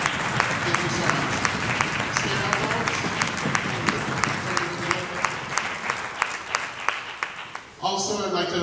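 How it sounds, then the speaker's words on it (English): Sustained applause from an audience at a concert celebrating women composers, a dense wash of clapping with scattered louder claps, ending abruptly with a voice speaking over the room. "let's give them a huge round of applause"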